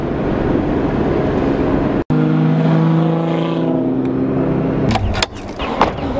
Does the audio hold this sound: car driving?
yes